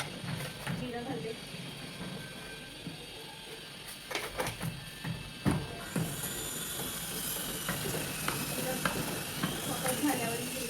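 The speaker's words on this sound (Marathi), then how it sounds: "तेल गरम झालेलं आहे, त्याच्यात मी जिरं घालते." Cumin seeds sizzle in hot oil with a soft, continuous hissing crackle, with small clicks and scrapes throughout and a slight rise in the hiss partway through.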